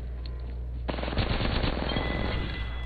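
Rapid automatic gunfire erupts in a sustained burst in an Apex Legends match on Xbox One, loud, dense and continuous after a short quieter lead-in, with no voices.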